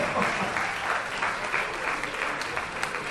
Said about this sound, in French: On applaudit très très très.